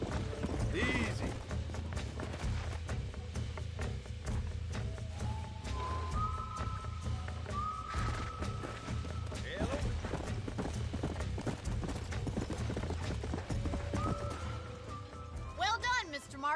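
Horse hooves clip-clop steadily through a ranch scene in the Red Dead Redemption video game, with occasional whinnies over a constant bed of game audio and people talking throughout.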